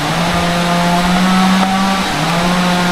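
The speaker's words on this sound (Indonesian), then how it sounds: "Itu ada suara mesin senso ya, mesin pemotong kayu, sampai kedengeran." A chainsaw cutting wood near a forest village drones as a steady, buzzing engine whine with a slight pitch shift, continuous and fairly prominent throughout.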